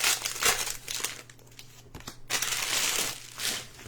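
Foil Pokémon card packs are torn open and handled close up, with bursts of crinkling and crackling wrapper noise in an uneven rhythm and no talking.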